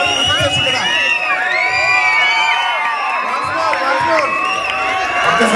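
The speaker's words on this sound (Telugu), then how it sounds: "సో దీనికి క్లాప్స్ గారు ఖచ్చితంగా విజిల్స్ కావాలి." An audience at a Dasavatar dance performance to Krishnam Vande Jagadgurum erupts in sustained cheering, with shrill whistles, whoops and clapping blending into a loud, continuous crowd roar.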